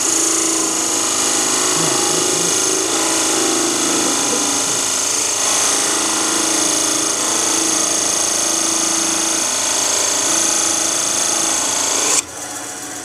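A wood lathe turns a thin-walled wooden Christmas tree ornament, giving a steady, continuous whirring and scraping hum that runs unbroken for about twelve seconds before dropping in level near the end.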